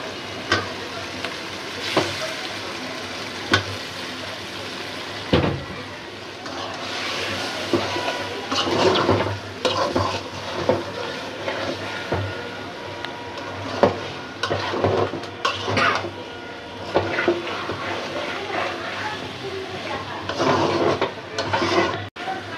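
Rui fish fries in spice paste in a pan with loud, close sizzling and repeated scraping stirs and clanks of the spatula against the pan, in uneven bursts.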